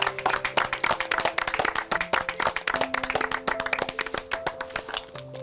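A group of people clap their hands together in rhythmic, fairly close bursts at a reality competition show's farewell, with distinct individual claps standing out, a few brief tonal sounds beneath, and no talking.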